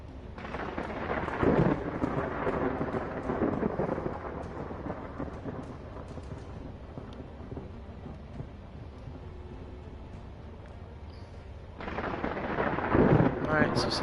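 Thunder rumbles and rolls from a storm with lightning in the Lost in Space video game, loud bursts at the start and end with steady rain-like noise between, no voices.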